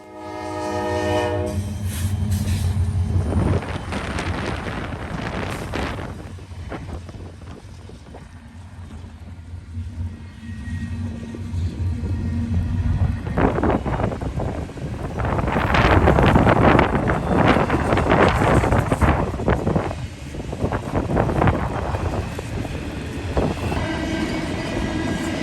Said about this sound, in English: I-150 coming out of the North Baltimore yard and preparing to run east of Fostoria